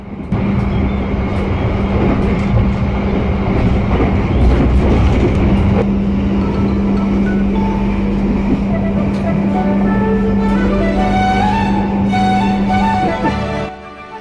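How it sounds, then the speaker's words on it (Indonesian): Argo Lawu express train speeding straight through a station without stopping, a loud sustained roar with a steady hum and rushing noise throughout, ending abruptly. "Argo Lawu pun melintas langsung di stasiun ini"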